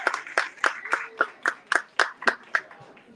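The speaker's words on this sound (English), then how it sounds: "One more round of applause for Maria." A small group clapping for a panelist at a Chicago community panel, about a dozen sharp, evenly spaced claps in a steady rhythm, close and fairly quiet, without voices.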